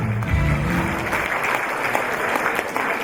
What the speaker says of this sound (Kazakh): Шапалақтарыңыз.